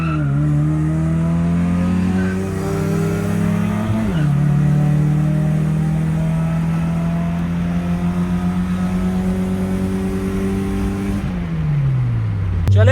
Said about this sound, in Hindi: जी तो अब रेस होने लगी है एक दफा फिर 2 गाड़ियों के रोल से।